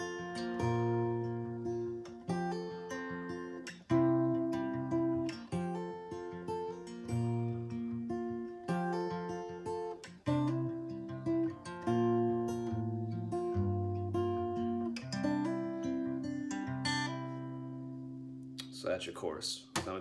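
Strummed acoustic guitar chords ring out in a steady progression, full and close, the chorus chords of a song, with a brief pause partway through and a scrape near the end.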